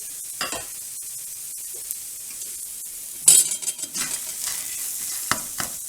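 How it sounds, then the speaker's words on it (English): Onions frying in a pan alongside potatoes for a breakfast burrito, giving a steady close sizzle throughout, with a few scraping stirs and clinks from a utensil against the pan. "We'll get our onions in there and get those onions to soften up a bit."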